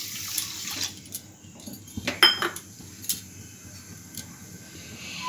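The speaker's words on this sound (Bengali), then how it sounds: "এরপর এই বাটির 1 বাটি আমি জল দিয়ে দিচ্ছি।" Water runs into a bowl of sugar to make syrup for balushahi sweets, a soft pouring trickle with light clinks of utensils, close and fairly quiet.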